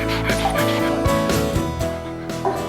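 Several dogs close by let out yips, short barks and high whimpers in an excited, overlapping jumble, fairly loud throughout with no clear talk.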